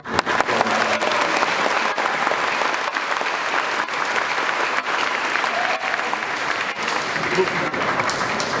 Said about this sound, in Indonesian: tepuk tangannya keras